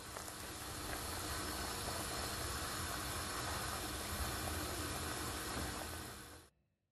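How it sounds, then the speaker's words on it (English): A pot of water comes to a boil for rice, giving a steady, dense hiss and rush. It holds level and fairly loud throughout, then cuts off abruptly near the end. "So now that it has come to a boil"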